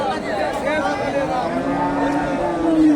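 Friesian heifers at a busy cattle market in Bogura, with several long, close moos rising over a crowd's chatter and background voices.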